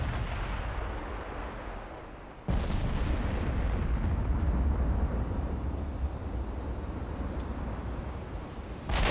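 Naval gunfire and shell hits in the Ultimate Admiral Dreadnoughts warship game: a steady rumbling roar of battle. A sharp, heavy boom lands partway through, and a dull impact follows near the end.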